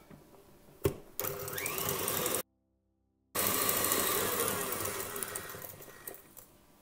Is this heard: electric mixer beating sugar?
yes